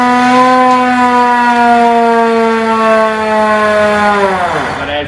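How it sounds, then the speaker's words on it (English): A hand-cranked siren on a 1924 American LaFrance fire engine holds a loud, steady wail at a single pitch for several seconds, then winds down and drops away at the end, close by. "the guy over here has been ringing this bell and cranking this siren all the way down the street"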